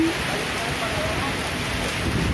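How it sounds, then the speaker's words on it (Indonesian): Heavy rain pouring steadily during a bicycle ride in Solor, a dense, even hiss of drops on surfaces filling the whole stretch at constant loudness, with no talk over it. "Cukup deras sekali hujannya."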